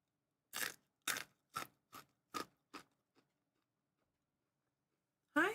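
Crunchy burger-shaped snacks being bitten and chewed close to the mic: six sharp crunches in quick succession, fading, then a pause and one more loud crunch.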